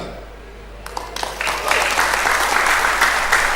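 An audience at a business seminar bursts into applause, starting with a few scattered claps and swelling into steady clapping from a room full of people.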